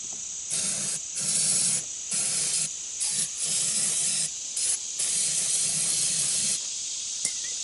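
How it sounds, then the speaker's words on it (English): Starting fluid is sprayed into the engine of a Chinese-made ATV that won't crank, in a string of short and longer close hissing aerosol bursts separated by brief pauses. "maybe hit it with a little starting fluid, see what it sounds like"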